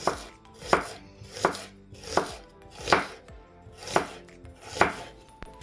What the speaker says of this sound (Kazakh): Әрі қарай бір жуамызды ұзынша етіп турап аламыз.